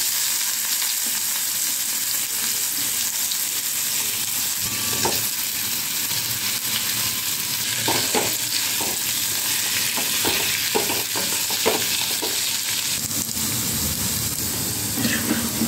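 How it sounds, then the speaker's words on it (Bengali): Potato slices fry in mustard oil in a wok, giving a steady, close, loud sizzle with scattered scraping and stirring clicks throughout; no voices. "আবার কড়াই সর্ষের তেল দিলাম, দিয়ে আলুগুলো ছেড়ে দিচ্ছি।"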